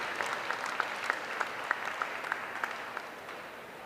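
Audience clapping at a county fair livestock show, a steady patter of scattered handclaps from a modest crowd that slowly tapers off.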